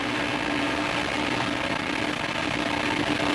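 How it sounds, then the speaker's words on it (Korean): An Ariane 5 rocket lifting off carrying the Cheollian 2B satellite, heard as a steady, dense broadband roar with no breaks, like a distant wall of noise. "드디어 천리안 EB 위성을 실은 아리안5 로켓이 발사가 됐습니다"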